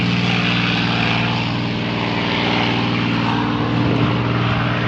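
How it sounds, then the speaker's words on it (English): A P-51 Mustang propeller fighter passes overhead, its steady throbbing engine drone loud and continuous throughout, with a low harmonic hum and a slight swell near the end. "P-51."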